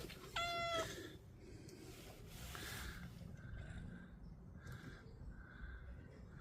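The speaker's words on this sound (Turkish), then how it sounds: "Çok güzel bir kedi arkadaşlar." A single short cat meow near the start, then quiet outdoor background with faint chirps and low rumble.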